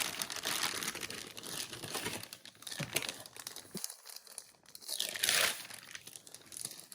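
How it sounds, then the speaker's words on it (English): A plastic bag from a Brother compact label maker is opened close up, giving loud crinkling and crackling in busy bursts with a short quiet gap in the middle and no talking. "We just open up this bag."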